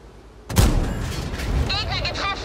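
A single heavy Panzer IV tank cannon boom erupts suddenly in World of Tanks, followed by a rumbling echo and a short burst of game sound effects.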